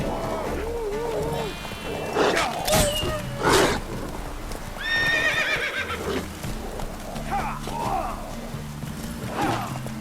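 Roach, the horse in Witcher 3, whinnies loudly several times over steady galloping hoofbeats, with game music and ambient noise underneath and a voice speaking briefly.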